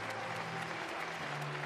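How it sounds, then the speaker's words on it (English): A crowd at a basketball game in Tenerife claps steadily, a dense, continuous wash of applause from many people in an arena. "the Tenerife players just applaud their fans who have come out to watch and support them today"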